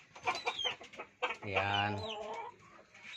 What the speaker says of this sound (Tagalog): Ito yung mga manok namin, oh.